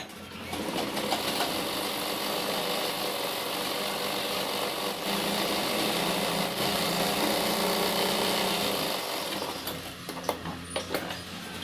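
Sewing machine stitching trouser fabric, running steadily and loudly for about ten seconds with a continuous whirring drone before slowing and stopping near the end.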